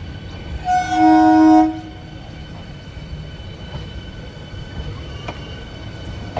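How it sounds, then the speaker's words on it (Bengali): An AC local train on the Sealdah–Ranaghat line in West Bengal pulls into a station platform, sounding a loud, sustained horn blast for about a second before settling into a steady low rolling rumble. "ট্রেন ঢুকে গেল"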